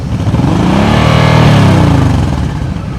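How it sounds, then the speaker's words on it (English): A motorcycle engine held at a steady raised rev during slow-speed riding practice, a loud, close, continuous drone that swells slightly in the middle and stays loaded throughout, with no voices. "You want to hear your engine like revved, and you keep it like that the whole time."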